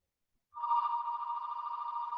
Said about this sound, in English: Sorry, that's our landline phone,